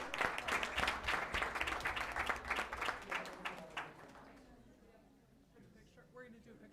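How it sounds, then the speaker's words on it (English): An audience at a school board of education meeting claps for elementary award winners, dense applause that fades out over several seconds, with voices and room noise underneath. "Let's please give all our elementary winners one more round of applause."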